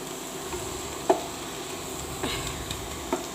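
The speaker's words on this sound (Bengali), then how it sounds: "এই যে আবার নেড়ে দিচ্ছি।" Leafy saag greens being stirred as they fry in a pan, a quiet, steady sizzle with a few soft scraping strokes of the spatula.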